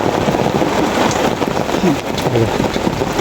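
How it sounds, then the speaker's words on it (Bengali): Rain pours down steadily on a rainy day of fishing in a village wetland, making a loud, dense hiss with patter throughout and a faint rumble underneath. "বৃষ্টি নামতেছে"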